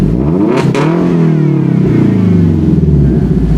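A Nissan 370Z engine revs loudly up close, its raspy pitch climbing and dropping in a couple of sharp bursts before settling into a throaty drone.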